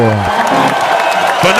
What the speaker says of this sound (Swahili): Ngwatiri makofi tukaribishe Fanatic Dance Crew.